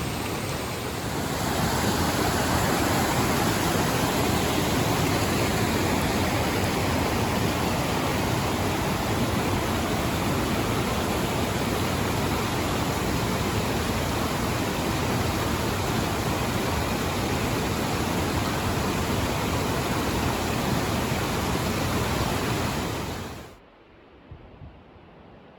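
A steep waterfall in Glacier National Park roars as a steady, loud, broadband rush of falling water. It continues unbroken for over twenty seconds before cutting off abruptly near the end.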